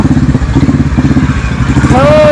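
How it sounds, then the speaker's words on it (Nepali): A motorbike goes by on a road at night near a lakeside, its engine a steady pulsing drone with a rise in pitch near the end, close and loud throughout. "यो पहिला बाइकले जान दिउँ"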